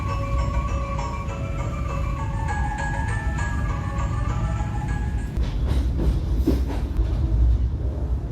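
Baturaden Express passenger train rolling into Bandung station, a steady loud rumble of wheels and carriages with faint clacking and brief tonal hums early on, the noise shifting and swelling toward the end as it slows.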